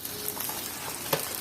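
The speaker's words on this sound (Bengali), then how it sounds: "কাঁচামরিচ পেঁয়াজ শুকনো মরিচ দিয়ে একটু লাড়া দেন" Green chilies, onion and dried chilies fry and sizzle steadily in a pan while being stirred, a close, dense crackle with a soft scrape from the stirring and no voices.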